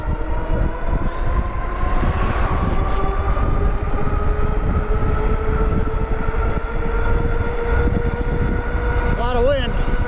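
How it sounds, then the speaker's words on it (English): Steady, loud roaring wind buffets the microphone while an AWD dual-motor 48V ebike runs at top speed downhill, a continuous broadband rush with a faint motor whine underneath throughout. "A lot of wind."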